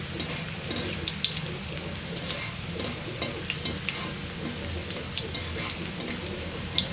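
Cut okra pieces fry in hot oil, giving a soft, steady sizzle broken by quiet scrapes and ticks of stirring, with faint speech in the background.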